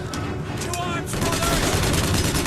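Machine gun fire in the video game Bioshock Infinite, a loud rapid stream of shots that builds after the first second and runs steadily beneath a talking voice.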